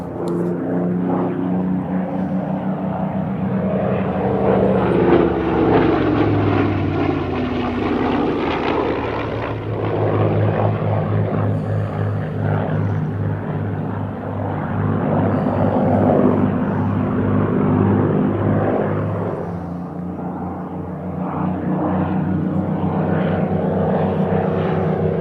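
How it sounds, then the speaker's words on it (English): A Supermarine Spitfire propeller aircraft passes near an RAF base runway, its loud, steady engine drone rising and falling continuously as it flies over, with no talk. "That's a Spitfire."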